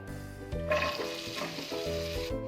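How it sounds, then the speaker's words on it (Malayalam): Cut okra (vendakka) frying in oil in a pan for vendakka pachadi, a steady close crackling sizzle that grows busier as the pieces go in, with no talking over it. "അതിലോട്ടേക്ക് നമ്മൾ കട്ട് ചെയ്ത് വെച്ചിട്ടുള്ള വെണ്ട ചേർത്ത് കൊടുക്കാം."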